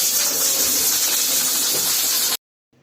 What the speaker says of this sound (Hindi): प्रेशर कुकर बंद करके इसको लगा देंगे तकरीबन 15 मिनट तक